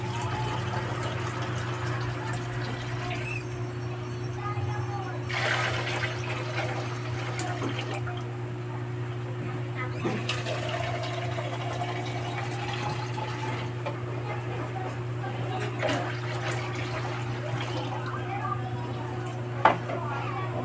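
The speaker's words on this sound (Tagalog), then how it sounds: "Dagdag pa tayo ng sabaw ha." Broth poured into a pot of lomi, a continuous watery pour and slosh under a steady low hum, with a few faint clinks of pans.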